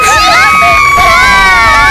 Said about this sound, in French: Maintenant, applaudissez fort si vous êtes pour les garçons.